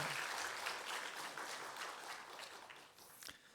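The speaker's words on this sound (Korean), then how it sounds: "우리 1년 동안 봉사하신 모든 분들을 위해서 한번 격려의 박수하겠습니다" A church congregation applauds its year-long volunteers, a soft, dense patter of many hands clapping together from a distance, holding steady for a few seconds before thinning out.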